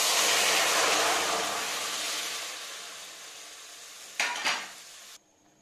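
Milk is poured into semolina fried in ghee in a pot, giving a loud hissing sizzle that gradually fades, followed by a couple of quick metal scrapes from stirring before it stops abruptly.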